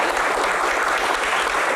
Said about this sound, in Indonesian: Tepuk tangan untuk Pak Menteri.